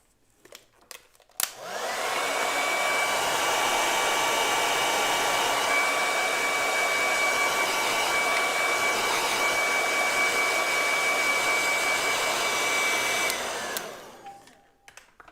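A hair dryer drying acrylic paint on a seascape painting switches on, runs at a loud steady whine with a constant airy roar for about twelve seconds, then shuts off and winds down.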